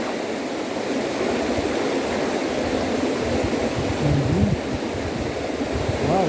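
Continuous rushing water of a river, a steady broadband wash with a faint tonal squeak near the end and no speech.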